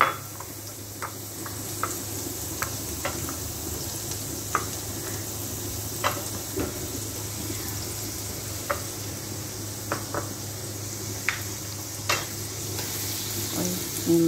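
Onions fry in a pan for kabab saluna, a steady close sizzle with frequent small ticks and pops scattered throughout, and no voices.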